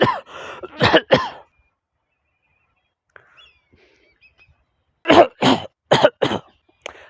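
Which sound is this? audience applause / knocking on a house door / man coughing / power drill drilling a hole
man coughing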